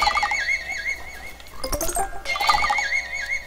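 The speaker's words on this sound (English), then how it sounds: "Sounds like a horse, kind of." Unicorn Chomper in PVZ Garden Warfare 2 lets out a horse-like neigh that warbles up and down, broken by a short burst near the middle and then resumed, loud and close over faint game background.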